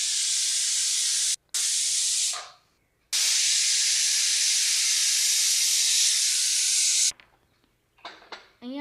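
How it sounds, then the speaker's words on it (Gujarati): A pressure cooker on the stove lets off a loud, sustained hiss of escaping steam, cut off briefly twice and then stopping abruptly, followed by softer sputtering bursts. "હવે કુકરને બંધ કરી દેવાનું છે અને 2 સીટી બોલાવવાની છે"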